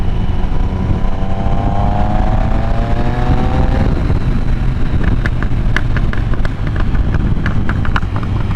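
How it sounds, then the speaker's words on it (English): A superbike motorcycle engine while riding, a loud close roar with rising revs and a whining pitch sweep early on, then steady cruising under heavy wind buffeting and a few sharp clicks. "Man, this bike sounds so nice."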